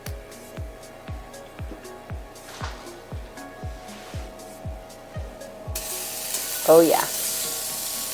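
Stew meat hits a hot Dutch oven and bursts into loud, hissing sizzle partway through, after a run of regular soft tapping; a voice briefly speaks near the end.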